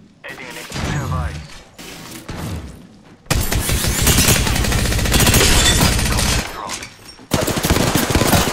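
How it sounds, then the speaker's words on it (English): Gunfire in the Apex Legends battle royale, with bursts of rapid automatic shots and heavy blasts crowding together near the end of a round, loud and close, broken by short gaps and mixed with game noise. "The enemies are shooting"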